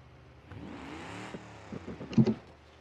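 A car engine revs in a racing video game, a rising and falling mid-pitched whine with a few short bursts near the end, moderately quiet.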